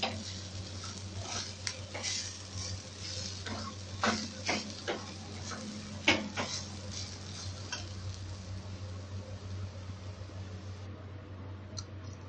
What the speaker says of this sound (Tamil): இதை நம்ம மாவில் கொட்டி நல்லா கிண்டி விட்டுக்கலாம்.